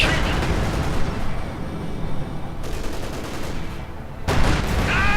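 S-mines detonating in the Company of Heroes 2 strategy game, a burst of rapid popping blasts and crackling booms over a battle din, followed by a lull and a fresh loud crack near the end.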